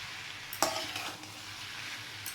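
Bitter gourd frying in a pan for a shukto-style vegetable dish, a steady close sizzle with a brief stirring scrape near the start and a few light utensil clinks, no talking.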